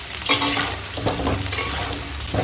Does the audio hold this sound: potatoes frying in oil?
yes